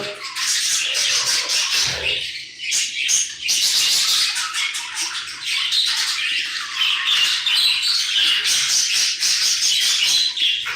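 Continuous harsh, raspy squawking of a budgerigar, close and loud, with chattering calls layered over one another throughout.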